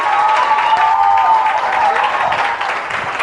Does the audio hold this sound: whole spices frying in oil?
no